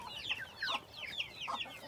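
Chickens on a Denizli farm cluck in the cool evening while waiting for feed and crowding close around someone. Short, bright calls repeat in quick clusters nearby, with no talking.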